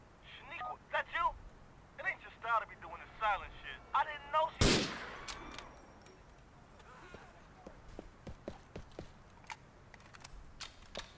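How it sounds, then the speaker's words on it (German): Several sharp gunshots crack out in Grand Theft Auto IV, one especially loud blast in the middle, mixed with clicking and chattering voices in the background. "Gut gezielter Schuss."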